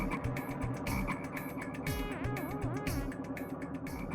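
A frog croaks over and over in a quick, steady rhythm of close, loud croaks with no talking over it.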